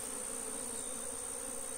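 Honeybees buzz around a hive box in a dense, continuous, close hum with a steady high drone, no voices.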